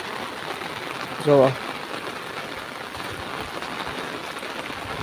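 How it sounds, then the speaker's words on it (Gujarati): A sudden heavy rain in Gujarat pours down as a steady, dense hiss throughout, with a person briefly speaking over it. "અચાનક જ વરસાદ આવી ગયો છે."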